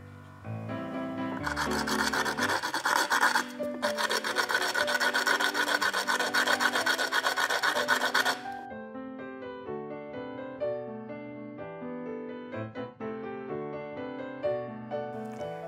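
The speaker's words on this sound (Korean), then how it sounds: "키트 속에 있는 사포를 이용해서 씨앗의 끝부분을 갈아" Steady, continuous rasping of sandpaper grinding the tip of a seed, loud and close, fading into quieter scraping as music plays along.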